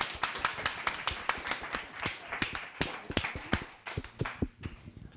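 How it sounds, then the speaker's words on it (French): A small audience claps for a guest arriving at the Mayfair in Montreux, with distinct, uneven handclaps close by that taper off and no talking. "On peut applaudir Oriane"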